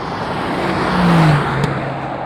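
Honda NSX and Mercedes-AMG GT R accelerating side by side in a standing-start drag race, a loud steady engine roar with a rising tone, swelling slightly at mid-point before holding on.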